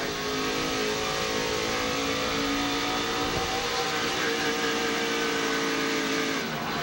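NASCAR stock car engines roar continuously from onboard at the 2009 US Cellular 250, a dense, loud, sustained drone of several cars running close together, with no voices.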